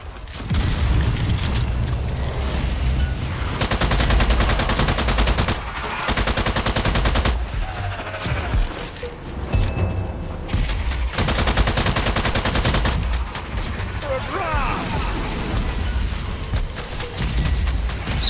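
Sustained gunfire at enemies in the horde mode of the video game Strange Brigade, loud rapid automatic bursts and booms almost nonstop, briefly breaking off before resuming.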